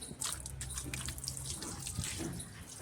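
Water runs steadily from a tap while clothes and a blanket are washed at home, a continuous splashing rush heard close with no clear talk.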